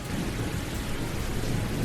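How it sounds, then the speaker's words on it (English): Steady rain drums on a red-iron metal barn in Texas, a dense, even wash of patter that fills the space close by without pause. "it's raining"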